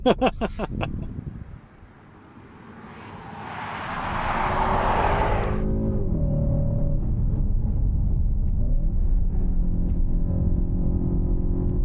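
Cupra Terramar VZ accelerating hard in performance mode: a rising engine roar with wind rush that builds after a brief pause and then holds loud and steady, with a short burst of talk at the start.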